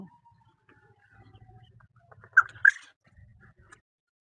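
Quails on a quail farm give two short, sharp chirps in the middle of an otherwise quiet stretch, over faint low shuffling and a few soft distant calls.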